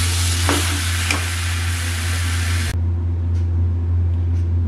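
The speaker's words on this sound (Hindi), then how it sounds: "धीरे धीरे इसमें खोया मिक्स हो जाएगा" Carrot halwa with khoya being stirred in a hot pan on the stove: a close, steady sizzle with scraping strokes under a constant low hum. Partway through, the bright hiss drops away abruptly, and no one speaks.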